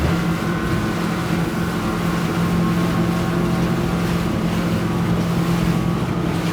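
A Ranieri Cayman 45.0 Cruiser maxi RIB runs at full throttle, giving a loud, steady engine roar mixed with rushing water and heavy wind buffeting against the microphone, continuous throughout.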